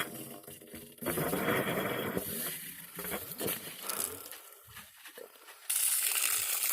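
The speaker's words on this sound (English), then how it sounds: "we'll have to bleed the air out." Sputtering, hissing bursts of air and water spitting as air is bled from a newly installed underground farm water line, irregular and uneven, with short gaps and a loud gush near the end.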